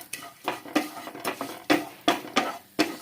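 Semiya vermicelli roasting over low heat in a pan, stirred with a steady rhythm of scraping, rustling strokes about every half second, close and fairly loud over a faint sizzle.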